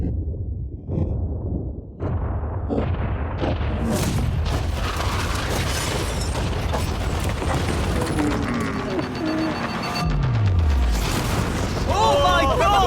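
A yacht blown up with explosives: a long, loud rumbling blast with a sustained roar and crackling debris, followed by excited voices and falling whistling tones over the continuing noise.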